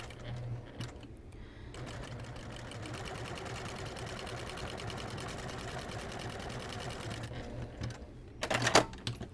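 A sewing machine runs a straight stitch along the seam of a pot holder at about an eighth-inch allowance, a steady mechanical whir lasting most of the stretch, ending in a brief louder burst.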